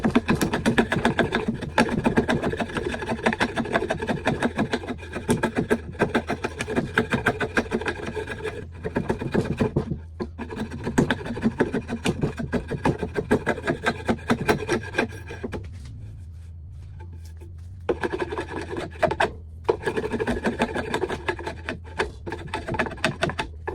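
Repeated rasping strokes of a hand drawknife shaving a wooden board, coming in quick bursts with brief pauses, close and fairly loud, no voices.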